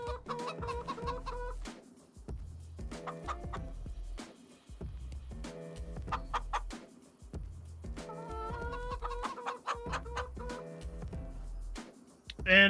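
Chickens clucking in Farming Simulator 25, a flock of hens chattering close and steadily with bursts of louder, overlapping clucks and brief quieter gaps, and a voice talking over them at times.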